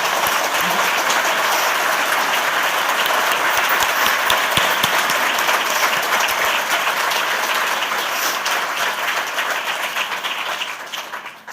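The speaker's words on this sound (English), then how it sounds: "I'd really just like all of us to give one more round of applause to Albert Woodfox" Sustained audience applause at a book event honoring author Albert Woodfox, a dense, loud wash of clapping that holds steady for about eleven seconds before tapering slightly at the end.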